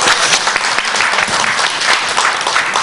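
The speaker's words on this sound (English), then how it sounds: "Give them a round of applause." Dense, steady applause fills a union conference hall, a loud continuous wash of many hands clapping together with no pauses, close and full throughout.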